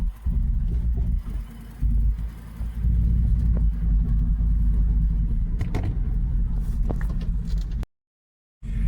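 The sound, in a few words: Hummer H2 driving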